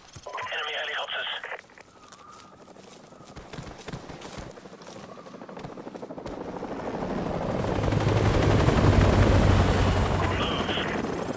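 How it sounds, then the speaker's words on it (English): Enemy helicopters in Modern Warfare Remastered: a rising rotor drone swells louder and closer over several seconds beneath radio chatter, with bursts of gunfire and game effects around it. "Enemy helicopters."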